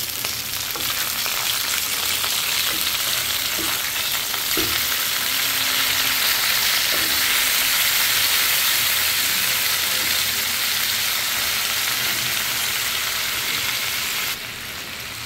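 Steady, loud sizzling of tilapia fish frying in hot oil, a dense crackling hiss that fills the whole stretch with a few faint clinks underneath.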